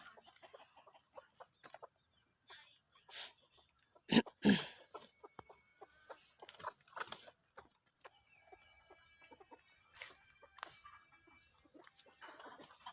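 Domestic chickens on a home farm clucking in scattered, soft bursts, with one louder squawk near the middle; the fowl sound fairly close but quiet overall, with faint rustling between calls.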